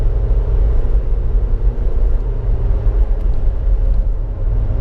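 A Nissan Versa with a CVT transmission accelerates on a highway, its engine and road noise forming a loud, steady low rumble and whir from inside the cabin, with no talking.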